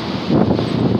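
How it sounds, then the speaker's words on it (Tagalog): Gusty wind in Cubao near the Smart Araneta Coliseum and a bus gateway, a constant close rushing buffet across the microphone. "Mahangin talaga dito sa Cubao."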